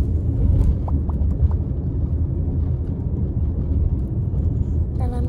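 Steady low engine rumble and road noise from inside a moving car, continuous and fairly loud throughout, with faint higher sounds near the end.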